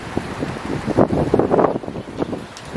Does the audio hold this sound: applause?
no